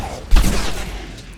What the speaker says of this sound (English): get ready for a massive explosion. This is going to be quite deadly.